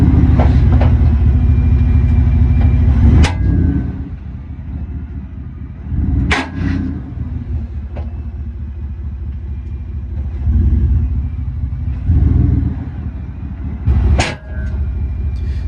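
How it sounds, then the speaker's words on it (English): Heavy rumbling from a 2021 Ford F-150 5.0 Coyote with an IHC Performance drop kit under hard braking, a loud low drone broken by several sharp clunks and squeals spaced a few seconds apart, with no talking. "every time I would brake hard, it would make a really bad noise"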